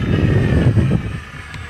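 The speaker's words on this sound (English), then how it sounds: "There we go, wide open, high speed pass." A 1100 mm radio-controlled F8F Bearcat model airplane makes a high-speed pass at full throttle. A steady, fairly loud motor-and-propeller roar holds for about a second, then eases off as the plane passes.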